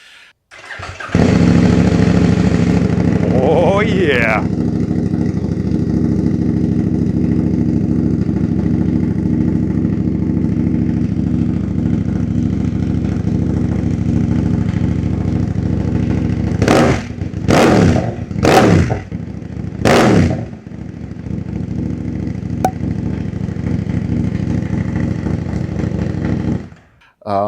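A Kove 800X Pro motorcycle with an aftermarket exhaust starts up and idles loudly and steadily close by, then gives several sharp revs in quick succession before settling back to idle. A voice speaks briefly.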